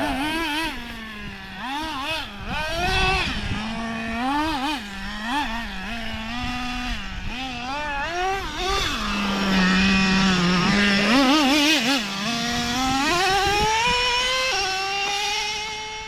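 High-pitched RC car engine screaming through revs with sharp pitch drops at each gear shift, loud and close at an outdoor construction-site bash with UDR, Slash, E-Revo and Nitro Slayer models, no talking.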